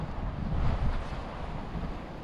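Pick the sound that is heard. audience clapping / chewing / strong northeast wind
strong northeast wind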